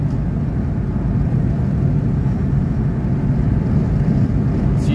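A Mercedes car accelerating steadily without kickdown, heard from inside as a continuous low engine and road drone at a constant level, with no talk.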